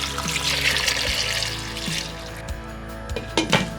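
Water pours steadily into a pot of beetroot and carrot for borscht, with a continuous splashing rush, close by, over a low background hum.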